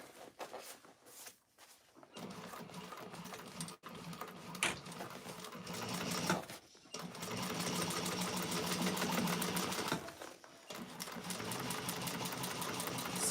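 A sewing machine top stitches a bag lining in long steady runs of rapid mechanical whirring, broken by short pauses, close and fairly loud with no talking.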